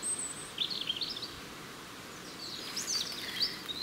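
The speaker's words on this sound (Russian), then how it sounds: "У птиц весенние песни." Wild birds sing spring songs in an aspen and mushroom forest in early June, a few faint, distant chirping phrases over quiet rustling air, with no voices.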